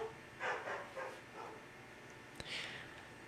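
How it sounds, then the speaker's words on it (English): Several faint bursts of dog barking in the background at home during a podcast, spaced apart and distant, with a brief sharp knock partway through. "Sorry for the dogs barking in the background."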